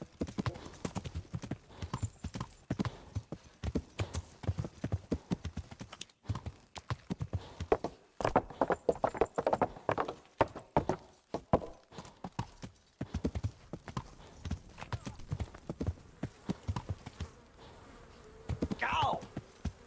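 Horse hooves clip-clop at a steady walking rhythm in the video game Kingdom Come: Deliverance, near and clear throughout, with faint buzzing insects and brief quiet talk.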